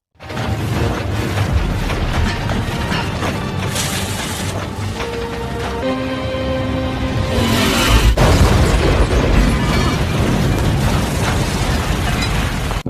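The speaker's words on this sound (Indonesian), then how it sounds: "CP dengan berani mengorbankan dirinya dengan meledakkan dirinya tepat di saat makhluk itu sudah mulai" A giant-monster film scene delivers a loud, sustained explosion roar when a character blows himself up, with rumbling bursts and a swell of layered effects throughout.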